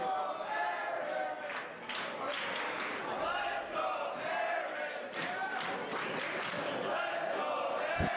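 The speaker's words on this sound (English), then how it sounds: "Crowd fully behind Aaron Rourke." Crowd at a live pro wrestling show cheering and shouting in a sustained noisy roar with chants and yells rising and falling, heard from within the audience.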